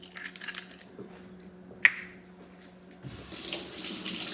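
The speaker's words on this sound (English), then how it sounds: "Rinse hand of egg whites." A kitchen tap opens and water runs steadily from the faucet to rinse egg whites off a hand, a close continuous rush following a quiet stretch and one sharp click.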